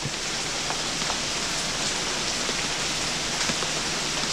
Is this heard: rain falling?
yes